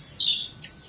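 Small chicks chirping nearby: a few short, high tweets rising over a quiet background, one early and another fainter near the end, with no talking.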